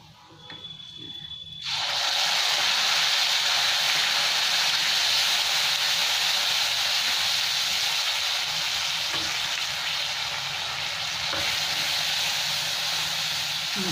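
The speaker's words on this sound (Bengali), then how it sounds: "এখানে আদা আর টমেটো পিষে রেখেছি, এটা আমি দিয়ে দিচ্ছি তেলের মধ্যে।" Ground ginger and tomato paste hit hot oil, with whole cumin and peppercorns already in the pan, setting off a sudden loud sizzle that holds as a steady frying hiss with occasional stirring scrapes.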